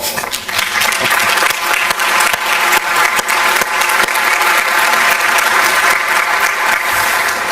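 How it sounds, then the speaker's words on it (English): Sustained audience applause fills a conference hall during an International Atomic Energy Agency meeting, dense and steady from start to finish without speech. "I believe this calls for an applause."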